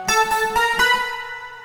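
Stacked patch from a MainStage 3 setup, blending a breathy synth, a modified choir sample and DX7 tones into a bright, plucky chord stab with a few rhythmic hits that ring out and fade, heard alone.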